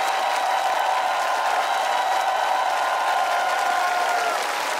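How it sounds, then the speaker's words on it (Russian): A studio audience on a Russian television show applauds guests arriving, a steady, even roar of massed clapping held at constant loudness throughout, with a faint tone running beneath it and no talk. "Вам аплодисменты"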